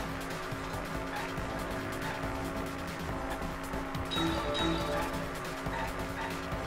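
A car drives in Danganronpa V3, with a steady engine drone and tire noise running throughout and a brief skid-like squeal near the middle, all at fairly even loudness.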